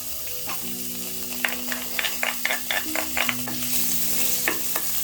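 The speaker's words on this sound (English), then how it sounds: "I'm going to saute my onions till they are very soft" Onions sautéing in hot cooking oil in a pan, a steady loud sizzle with repeated scraping stirs over a constant background hum, no voices.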